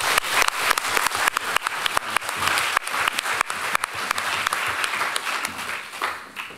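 Audience applause welcoming Patrick Diamond onto the stage at a panel event on economic ideas, a dense, steady wash of many hands clapping close and loud throughout with no talk.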